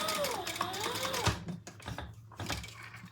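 Sewing machine stitching lines on a Magnolia Rae Traveler pouch, a short quiet burst of rapid mechanical needle clatter that stops, followed by a few soft handling clicks.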